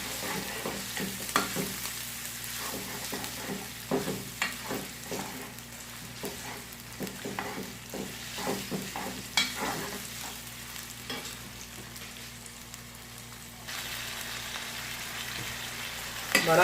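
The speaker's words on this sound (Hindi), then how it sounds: "अब इसमें चिकन शामिल करते हैं। और इसको अच्छी तरह से फ्राई कर लेते हैं।" Chicken sizzles in a pan with browned garlic and ginger, a steady moderate fry broken by repeated spatula scrapes and stirring knocks, with the hiss growing brighter toward the end.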